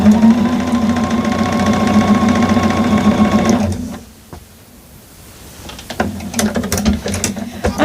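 A Bernina sewing machine stitches a quilt block in a loud, steady mechanical hum that cuts off just before the halfway mark, leaving a short lull of light clicks before it whirs back up in brief bursts.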